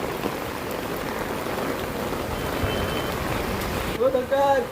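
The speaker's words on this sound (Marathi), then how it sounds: "आता पाऊस पडतोय बघा" Steady rain falls on a monsoon day near a railway line, an even wash of patter throughout, with a brief beeping tone near the end.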